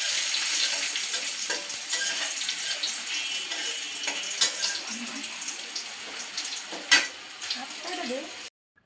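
Chopped garlic sizzles steadily in a hot pan while it is stirred, a soft, continuous fry broken by a few light scraping clicks; this is the start of cooking shing fish bhuna.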